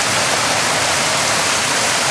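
Rushing river water on the Klamath River, a dense, loud, continuous hiss of flowing water with no pauses or voices.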